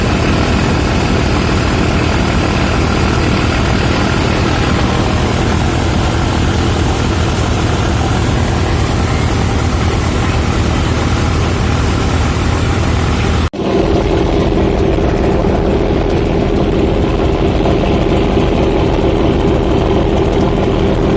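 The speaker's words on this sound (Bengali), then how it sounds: "লঞ্চের থ্রাস্ট দেখুন, ভালো একটা গতিতে লঞ্চ আগাচ্ছে।" A passenger launch on a trip from Dhaka to Elisha pulls away with its engine running, a loud, steady, heavy drone that shifts abruptly to a thinner, slightly different tone partway through, with no voices.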